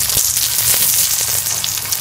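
Steady, loud sizzle of a mooli paratha frying on a hot pan, a continuous crackling hiss with small pops and no talking.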